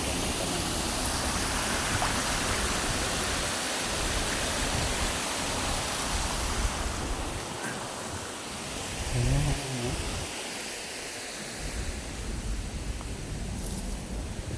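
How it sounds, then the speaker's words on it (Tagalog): A long river in San Agustin, Dasmariñas, Cavite rushes in a steady broadband wash of flowing water, constant and close, with a brief low murmur partway through. "Yan po yung napakahabang ilog."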